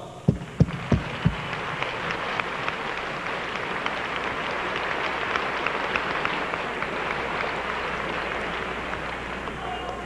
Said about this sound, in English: we would like to give you one more round of applause